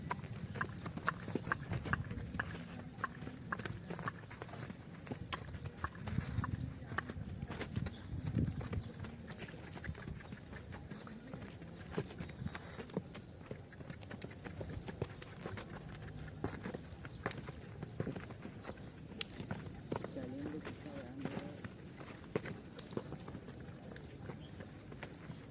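A horse's hooves clip-clop steadily and continuously during horse training for dancing, with a close, uneven rhythm of hoof strikes on hard ground and occasional low sounds of activity in the background.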